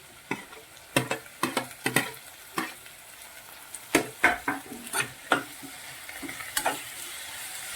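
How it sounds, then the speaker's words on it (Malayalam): Onions with turmeric and tomato being sautéed in a pan, giving a steady soft sizzle broken by a series of sharp scraping stirs and taps of a spoon against the pan, close by and with no talk. "ഉള്ളി നല്ല ചുമന്ന നിറമാകുന്ന വരെ വഴറ്റിയെടുക്കണം."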